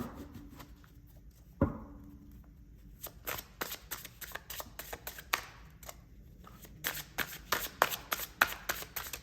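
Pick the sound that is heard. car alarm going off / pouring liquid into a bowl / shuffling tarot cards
shuffling tarot cards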